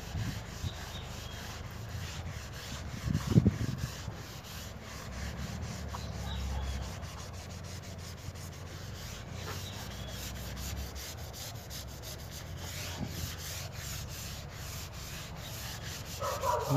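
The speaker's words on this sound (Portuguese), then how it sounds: "Vou fazer uma simulação de como se eu estivesse limpando com um pano seco." A dry cloth is rubbed over fresh tile grout, making a continuous soft scrubbing and scraping close by, with no talking.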